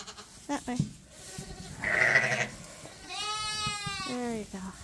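Sheep bleat on a farm, a long wavering cry standing out clearly between stretches of a nearby person talking and other bleats.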